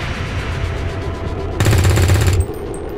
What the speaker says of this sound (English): there's another Overwatch shot